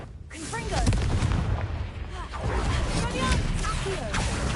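Fiery blasts from the Confringo spell in Hogwarts Legacy, a sustained run of heavy booming impacts and crackling bursts, loud and dense throughout with brief swells.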